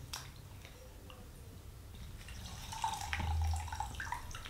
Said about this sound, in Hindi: देखिए अब हमने अच्छे से इसका पानी जो है वो निकाल लिया है।